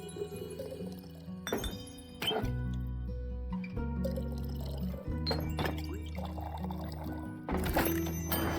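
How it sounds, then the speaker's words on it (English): Drink poured in a tavern-serving game, heard as short liquid pours and clinks with thunks, set against steady game music with no talk. "We pour our drink."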